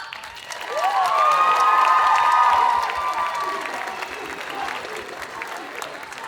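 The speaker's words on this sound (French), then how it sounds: "On applaudit bien fort." A crowd at the Japan Addict Z 2023 cosplay contest claps steadily while voices cheer and whoop over it, loud at first and then easing into continued applause.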